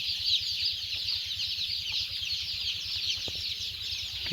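Day-old chicks and chickens in the covered brooding area of a poultry farm, a steady dense chorus of high peeping and cheeping with a low rhythmic machine hum beneath, continuous and fairly near.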